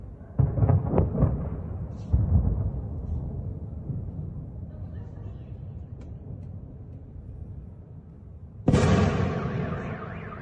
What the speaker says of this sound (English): We hear another explosion, car alarms going off all over the place.